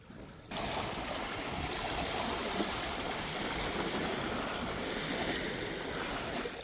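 Water laps and washes steadily along the Lake Huron shore near the head of the St. Clair River, a continuous broad rush of small waves, moderately close, with some wind and no talk.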